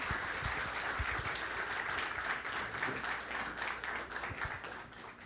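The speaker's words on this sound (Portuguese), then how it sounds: "aqueles que creem, dêem um aplauso aí a Jesus" A church congregation claps for Jesus in a sustained, moderately distant round of applause lasting several seconds, with scattered individual claps standing out.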